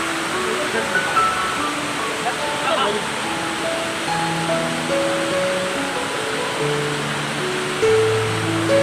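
The waterfall at Jatashankar, Junagadh, roars as a steady, full rush of falling water, with voices faint underneath.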